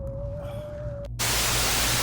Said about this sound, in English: Now, okay, this is white noise.